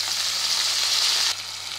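Mint leaves crackle and sizzle in hot oil for a Hyderabadi egg biryani, a steady close hiss that drops slightly in loudness near the end, with no talking.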